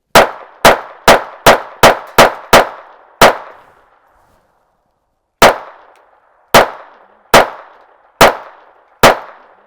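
A Taurus TX22 .22 pistol fires a string of sharp, loud shots: a rapid burst of about eight, a pause, then six more evenly spaced reports, each with a short ringing decay.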